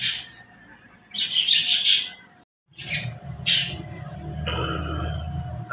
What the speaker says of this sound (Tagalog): Ating mga lovebirds.